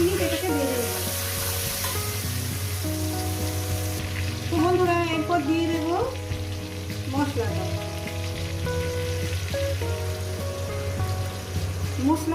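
Tomato with turmeric fries in a pan with a continuous sizzle while a spoon stirs and scrapes. A voice talks over it in places.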